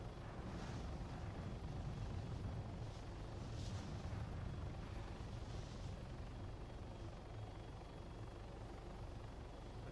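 A Hummingbird helicopter in the Arma 3 military game thrums with steady rotor noise throughout, a low continuous churn at moderate distance with faint bursts on top and no talk.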